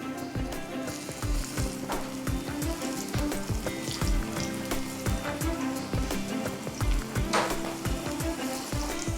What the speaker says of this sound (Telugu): ఆయిల్ వేడెక్కిన తర్వాత మనం కోట్ చేసుకున్న అరటికాయ ముక్కల్ని ఆయిల్లో వేసుకోవాలి.